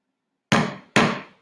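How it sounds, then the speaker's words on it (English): Two loud, close hammer blows driving nails into wood, each a sharp crack with a short ringing decay, spaced about half a second apart in an otherwise quiet room. "using my nails and my hammer."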